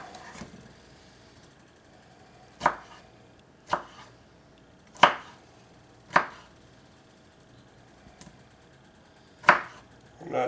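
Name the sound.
knife chopping tomatoes for soup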